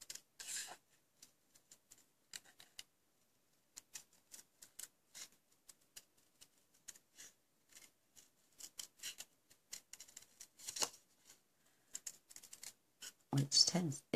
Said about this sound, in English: So here's the fussy cutting bit.